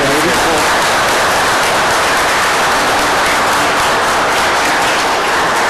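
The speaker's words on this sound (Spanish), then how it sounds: "Le damos un aplauso aquí a nuestro querido Federico." Loud, dense applause from a lecture audience closes a talk on Mexica historicity, a continuous broadband roar of many hands clapping at a constant level for several seconds.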